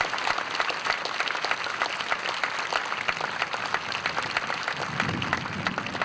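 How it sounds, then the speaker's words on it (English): A crowd in the stands at a celebration of life in Torrance, California, applauds after an aircraft formation flyover, producing a dense, continuous burst of clapping that holds for the full stretch. "So let's give them a round of applause."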